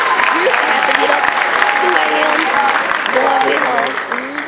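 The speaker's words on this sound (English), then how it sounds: "Let's give her a round of applause." Audience applause at a pageant, clapping mixed with cheering and raised voices, loud and close, thinning slightly toward the end.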